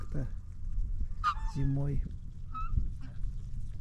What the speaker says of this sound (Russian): И там гусь у нас зимует.